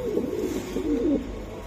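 Pigeons at a pigeon seller's shop, including young red checker birds, coo in a close, continuous, throaty warble that rises and falls through the whole moment.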